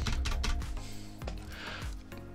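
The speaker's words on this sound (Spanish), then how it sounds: "si se desactiva el sonido del teclado" Computer keyboard typing, a run of crisp plastic key clicks at an uneven pace, close and moderately loud with no voices over it.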